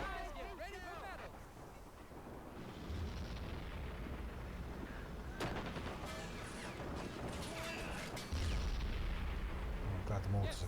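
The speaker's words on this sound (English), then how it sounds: "I'm glad the mortars eventually got him." Mortar fire in the WWII strategy game Men of War Assault Squad 2 during Operation Overlord: several heavy booms and crashing impacts over a rumbling battlefield, with a voice speaking at the start.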